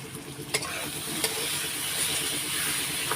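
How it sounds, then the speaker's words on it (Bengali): Tomatoes sautéed in hot oil with katla fish for a spicy Bengali fish curry give a steady, close sizzle, broken by a few sharp clicks from the stirring utensil. "টমেটোগুলো দিয়ে এখন কষিয়ে নেব"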